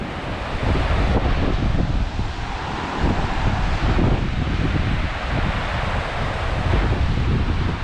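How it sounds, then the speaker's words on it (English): Strong wind on an ocean shore near a foggy lighthouse roars steadily and loudly over the microphone, buffeting it, with the wash of surf blended underneath and no voices. "It's kind of windy"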